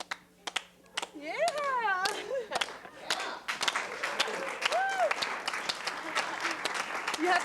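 Hand clapping along with Swedish belly dancing, scattered sharp claps mixed with whoops, a sung or whistled melody and people talking and laughing in a lively room.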